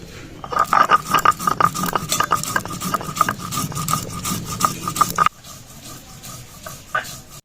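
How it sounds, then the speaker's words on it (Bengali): Whole coriander and cumin seeds being ground together on a grinding stone for an egg curry, a steady rubbing, rasping stroke repeated rapidly and fairly close, easing into quieter scraping toward the end. "গোটা ধনে গোটা জিরে একসাথে বেটে নেব"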